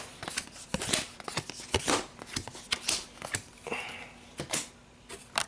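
Playing cards are drawn and handled in a card game, a close, quiet run of quick papery slides, flicks and snaps coming in irregular bursts.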